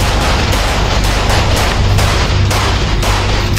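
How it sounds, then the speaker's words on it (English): Rapid gunfire from Russian combat robots, a dense, sustained burst of repeated shots with a steady low rumble, loud and continuous throughout. "Russian robots to shoot guns."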